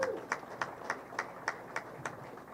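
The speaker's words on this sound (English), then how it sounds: "I'd like a round of applause for Jared Johnson." A small crowd claps for an organizer at an annual bowling tournament, the King Classic at Strike Central: a sparse, fairly steady patter of quiet claps with no talking.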